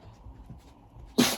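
A pet dog gives a single sharp, close sneeze indoors, following quiet snuffling and a brief low sound.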